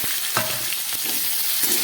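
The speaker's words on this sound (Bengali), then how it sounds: "খুব ভালো করে এবার একটু ভেজে নিই" Chopped ridge gourd and tomato hiss and sizzle in a hot pan, a brief close-up burst of frying with faint stirring scrapes.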